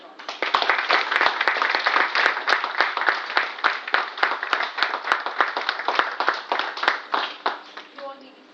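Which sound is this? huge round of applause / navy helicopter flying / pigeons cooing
huge round of applause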